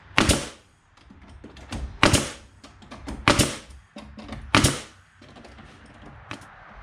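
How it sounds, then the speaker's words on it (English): A pin nailer fires nails into cedar boards while a planter bottom is assembled, giving four loud, sharp snaps about a second apart, then a softer fifth, each with a short thud, close by and with no talking. "just go ahead and shoot them with some pin nails."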